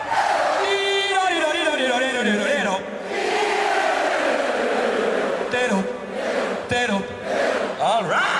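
A crowd gathered outside Parliament House in Australia for a budget announcement roars and shouts together, with loud rising and falling voices over a steady wash of noise, close and lively.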